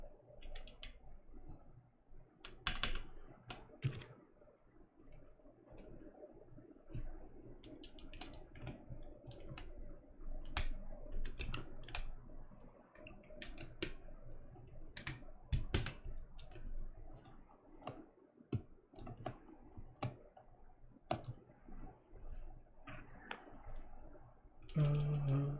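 Keystrokes on a freshly assembled Gingham mechanical keyboard, a steady scatter of sharp clicky taps that stays close and fairly loud for the whole stretch, with no talking.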